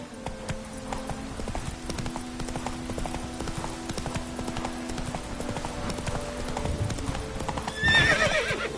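Horse hooves clip-clop in a steady, quick galloping rhythm throughout, with a whinny near the end, from a horse ridden in The Witcher 3: Wild Hunt video game, under faint ambient game sound.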